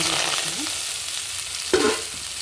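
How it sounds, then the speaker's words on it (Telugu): Gongura leaves fry in oil with a soft, continuous sizzle, a brief scrape of stirring near the middle and a slightly louder burst toward the end; nobody speaks. "ఇప్పుడు ఈలోపు మనం గోంగూర ఫ్రై చేసుకుందామండి కొంచెం ఆయిల్ వేసేస్తున్నాం"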